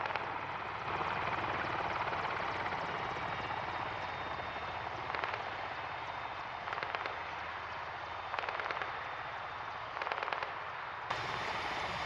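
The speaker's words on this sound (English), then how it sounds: "A helicopter dropping off aid and perhaps ammunition as landing in a civilian football field." A video-game military helicopter landing in a civilian football field, a loud continuous rotor and engine drone with periodic bursts of crackling on top, no speech.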